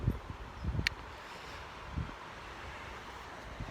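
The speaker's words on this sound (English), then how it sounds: "We have another windy day." Low, buffeting rumbles of wind gusting up to 30 miles an hour against the microphone, irregular thumps over a soft rushing background, with one brief high chirp.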